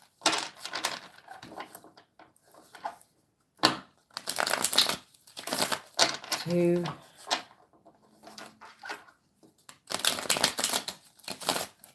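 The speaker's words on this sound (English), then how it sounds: "I'm going to have to shuffle these." Tarot cards being shuffled by hand in repeated bursts of soft papery riffling and tapping, fairly close, with someone talking and counting in between.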